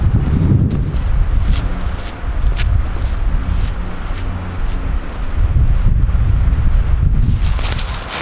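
Strong wind buffets an outdoor microphone beside an old rail bed trench near a road, a continuous loud low rumble with gusty swells and no voices.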